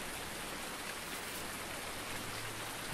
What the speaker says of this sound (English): Oh, I can't harvest in the rain.